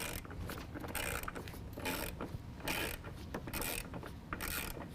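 A ratchet tightens a black 10mm bolt at a headlight during installation of SPEC-D projector headlights, giving steady repeated clicking in quick bursts, close and continuous with no talking.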